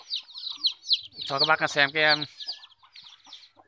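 Chickens cluck in a farmyard coop in the northwest Vietnamese highlands, with a burst of loud nearby clucking and squawking in the middle, while someone speaks briefly over the birds.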